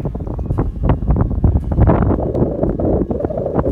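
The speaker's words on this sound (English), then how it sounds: "And it's windy." Gusty wind buffets the microphone in heavy, irregular low rumbles and thumps while hiking the Appalachian Trail, loud and constant throughout, with no speech.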